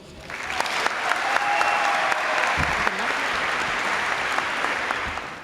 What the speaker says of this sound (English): Round of applause for Ms. Bassine and the hard work that she's